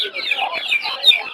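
Chickens and chicks cluck and cheep close up at a busy rural poultry market where silkie and turkey chicks are sold, a brief continuous chatter of birds.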